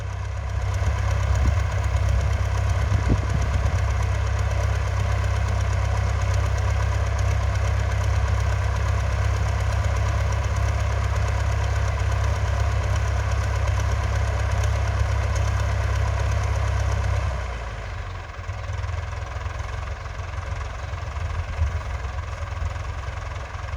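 A Ford 6600 tractor engine idles close by with a loud, steady low chug and knock, then drops to a quieter rumble near the end.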